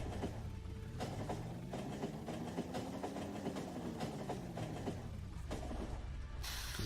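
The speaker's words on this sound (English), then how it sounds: "Now we're going to be behind that train for a little bit." A train in the factory-building video game Factorio rumbles steadily along with a rhythmic clatter, a continuous moderate mechanical drone with no speech over it.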